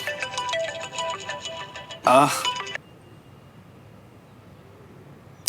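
A mobile phone ringing with an incoming call, a loud repeating electronic ringtone for about two seconds, then a short burst and a sudden stop, followed by quiet room tone with no talking.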